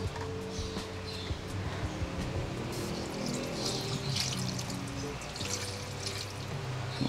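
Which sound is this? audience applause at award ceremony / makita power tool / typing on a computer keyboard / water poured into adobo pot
water poured into adobo pot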